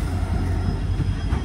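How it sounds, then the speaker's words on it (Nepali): A train pulls in at Thakurganj railway station at night, headlight on, with a steady loud low rumble of rail cars rolling close by, continuous and without voices. "डेन्जर हेडलाइट बालेर ट्रेन आयो है गाइज।"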